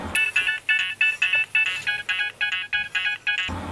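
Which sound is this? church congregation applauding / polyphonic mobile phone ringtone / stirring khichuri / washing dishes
polyphonic mobile phone ringtone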